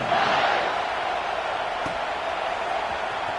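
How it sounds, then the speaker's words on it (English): A stadium crowd in a football video game buzzes with a steady, dense roar that holds at an even level throughout, with no single shout standing out. "this crowd is buzzing after that last score"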